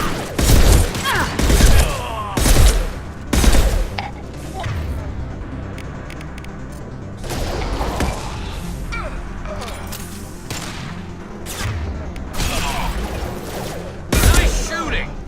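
Combat in Mass Effect bursts with repeated loud gunshots and crashing impacts in clustered volleys, broken by quieter stretches where voices talk over the fight.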